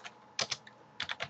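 Fingers tapping on a computer keyboard, a handful of quick, crisp clicks in short bursts, close and fairly quiet with brief pauses between groups.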